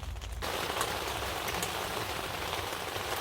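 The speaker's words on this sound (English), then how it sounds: "It's just steady rain." Steady rain patters on the fabric of a hot tent during winter camping in snow, a close, even drumming hiss that swells in after a brief quieter moment and carries on without speech.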